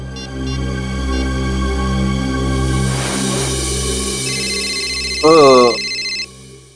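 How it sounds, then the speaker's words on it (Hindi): A telephone rings at night with a steady electronic ringtone, sustained tones holding over a low droning hum, then a brief louder warbling burst near the end. "अब इस वक्त किसका फोन आ गया?"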